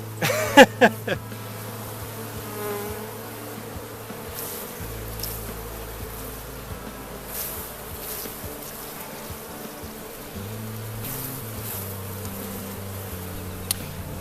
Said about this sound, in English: Shaking bees is kind of fun.